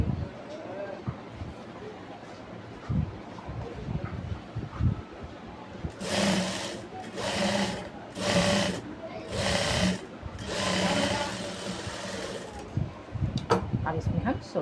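Sewing machine stitching a crop top, running in several short bursts of rapid whirring stitches with brief pauses between, close and moderately loud, with a voice talking before and after.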